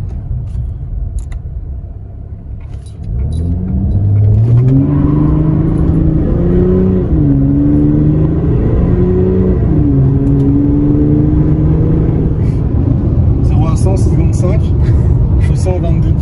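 A Chrysler 300C revs up for a standing start, its engine climbing and wavering through a series of loud, sustained rises over a steady low rumble, close by, with people talking over it.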